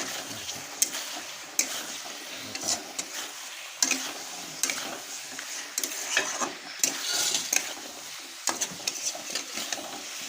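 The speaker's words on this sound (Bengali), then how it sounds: "এইভাবে ফুলকপিগুলো দিয়ে তারপরে একটু কিছুক্ষণ নাড়তে হবে।" Fried cauliflower florets stirred in a pan for a dry vegetarian gobi masala, with repeated close scraping strokes, light sizzling and occasional sharp clinks of a spoon against metal.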